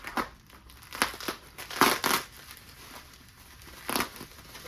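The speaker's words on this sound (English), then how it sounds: "I gotta cut it open some more" Cardboard package being cut open by hand, with several sharp crinkling, tearing bursts at irregular intervals, close and fairly quiet, no speech.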